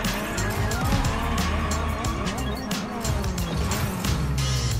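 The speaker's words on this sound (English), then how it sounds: "We're just gonna drift around here again." A car drifts with continuous loud tire squeal over a revving engine, the screech wavering in pitch as the car slides, close and sustained throughout.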